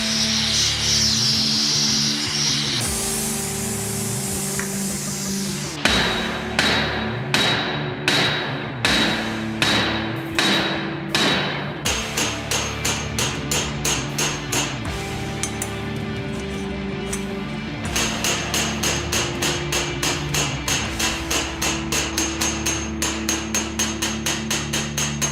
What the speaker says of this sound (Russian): Когда мы расклепываем материал круглым молотком или вот таким вот молотком